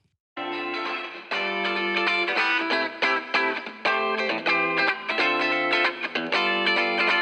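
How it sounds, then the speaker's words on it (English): Distorted electric guitar playing chugging chords and riffs through a medium room reverb, a dense, loud, continuous tone with a faint reverberant tail, no talking. "Now let's adjust the reverb amount."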